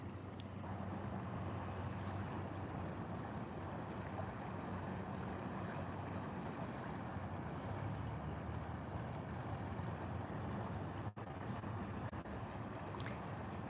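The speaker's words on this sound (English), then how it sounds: "Isn't the sound of water one of the best sounds?" Flowing water outdoors on a sunny day, a faint, continuous rushing that holds steady without breaks, with no voices over it.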